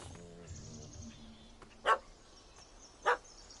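A dog in The Witcher 3 video game gives two short, sharp barks spaced about a second apart. The barks cut through quiet ambient game sound and a faint earlier whimpering tone.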